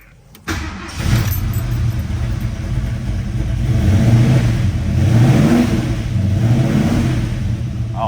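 A 1969 Ford Mustang Grande's 351 Windsor V8 with cherry bomb mufflers cranks and fires after a brief silence, then settles into a loud, rumbling idle with a few light revs.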